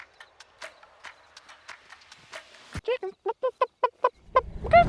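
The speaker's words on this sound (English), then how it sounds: "I gotta chase these chickens." Chickens cluck in a quick series of sharp, close calls, with scattered softer clucks and rustling around them; a voice briefly joins in.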